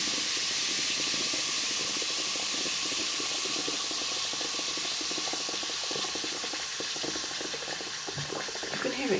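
Baking soda and vinegar foaming and fizzing in a partly blocked sink drain, a steady close hiss of bubbling with gurgling liquid running down, continuous and fairly loud throughout.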